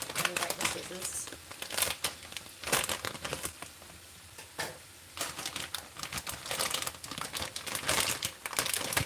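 A plastic bag crinkles and rustles up close in a home kitchen during an ASMR cooking session, in sharp bursts with brief pauses over about nine seconds.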